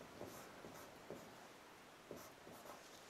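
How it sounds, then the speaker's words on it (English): A Sharpie permanent marker squeaks and scratches faintly across a small whiteboard in several short separate strokes, heard close and quiet with no talking. "I'll just write on here for you"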